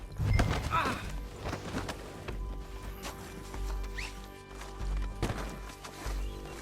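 Horse hooves clopping on the ground in the video game Red Dead Redemption 2, with a faint whinny amid a busy ambient mix of movement and background game sound, fairly quiet overall.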